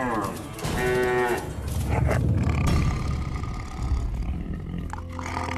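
A cartoon cow lets out drawn-out moos among other animal cries, including a roar-like growl, set against background score, loud and close.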